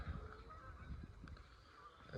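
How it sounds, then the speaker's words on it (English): Around a hundred geese out on an old reservoir honk together in a noisy, continuous chorus, the overlapping calls steady across the whole stretch with no talk. "It's about 100 geese. Noisy buggers."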